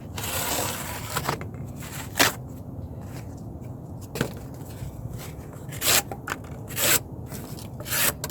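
A Camillus LK-6 knife is put through a cutting test, giving a low scraping rasp with several sharp, brief cutting snaps spaced a second or two apart, close and fairly quiet, with no talk.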